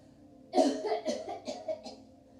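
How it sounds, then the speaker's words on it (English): A single deliberate, forced cough bursts out, followed by a few shorter throaty coughs, close and clear against near silence. "That's a fake cough"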